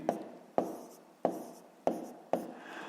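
Pen strokes on paper while working a fifth-grade long-division exercise, five sharp, evenly spaced scratches about half a second apart, close and fairly quiet, with no talking.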